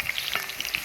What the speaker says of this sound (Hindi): ये ना अच्छे से फ्राई कर लेने हैं, इनका कलर ब्राउन कलर का आना चाहिए